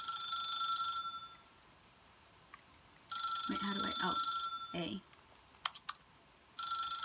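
An in-game telephone rings in The Stanley Parable, in repeated electronic ring bursts separated by pauses, with keyboard clicks and a player speaking briefly in between.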